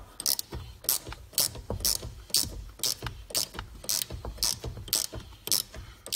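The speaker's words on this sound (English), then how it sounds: "I like these little gear wrench things." Rapid ratcheting clicks from a small gear ratchet wrench working on a 2006–2013 Chevy Impala door hinge, a steady run of sharp close clicks in quick bursts, with no talking.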